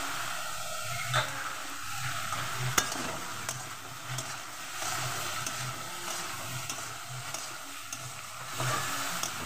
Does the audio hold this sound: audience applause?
no